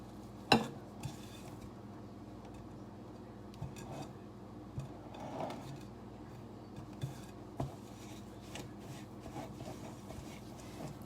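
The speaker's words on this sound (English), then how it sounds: "are creaming your brown sugar and your granulated sugar together" Brown and granulated sugar being creamed with room-temperature butter, a quiet run of soft scraping and rubbing strokes with a few light knocks of the utensil, close and faint, with no talking.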